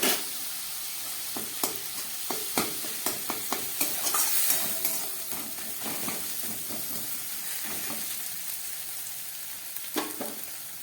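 Ginger paste and grated onion frying in a pan, a steady low sizzle broken by sharp scraping taps of a spatula stirring throughout.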